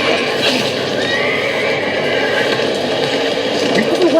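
A horse whinnies over steady clopping hooves and a busy background murmur, loud and close throughout.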